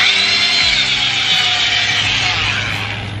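A power drill spinning in reverse to remove rivet heads during Airstream subfloor prep gives a loud, close, continuous high whine that eases slightly toward the end.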